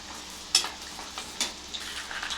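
Peanuts frying in hot oil for a mango pulihora tempering: a soft, constant sizzle with a few brief scraping stirs, close and fairly quiet.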